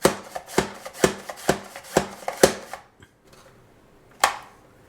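A carrot julienned on an upright mandolin slicer, about eight sharp, evenly spaced slicing chops in quick rhythm, then a brief pause and one last crisp cut, close and loud with no talking.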